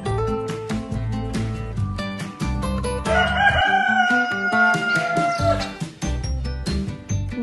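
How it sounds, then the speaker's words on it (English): A rooster crows loudly and close, one long drawn-out cock-a-doodle-doo rising and holding over a busy music bed, with scattered clucking around it. "Rooster."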